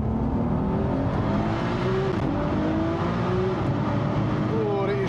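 An 1100+ hp Audi TT Mk1 accelerating hard on a run toward 370 km/h, its engine roaring loudly and continuously with rising pitch steps as it climbs through the gears, heard from inside the car amid heavy road and wind noise.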